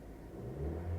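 Maruti Suzuki Brezza 2023 engine revving up from idle, a low rising hum that grows steadily louder over about a second, heard up close with no talk.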